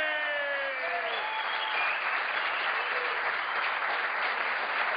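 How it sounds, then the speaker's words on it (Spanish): Applause for a boxer after a knockout win at a boxing match, a steady wash of crowd clapping, moderately distant, with some tonal sounds fading at the start. "Fuerte el aplauso para Manuel Montañez."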